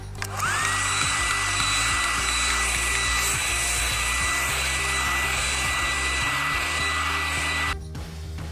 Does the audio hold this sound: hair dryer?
yes